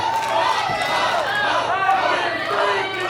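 A wrestling-event crowd roars and chatters as a match gets underway, a loud continuous wall of voices with shouts and whistle-like calls rising and falling throughout.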